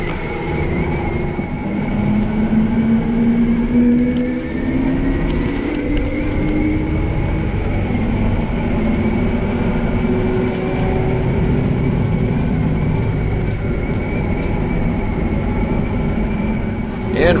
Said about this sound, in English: So not every day you get to drive a big tractor like this through big city